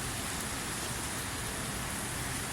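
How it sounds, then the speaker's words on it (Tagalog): Floodwater flowing through a street in Recto during a flood, steady broadband rushing and splashing that fills the whole stretch at an even level, with no voices. "Grabe ang baha, malaki."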